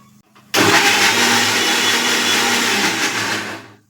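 A mixer grinder whirs loudly as it grinds ginger and garlic into paste, starting abruptly and running steadily for about three seconds before winding down.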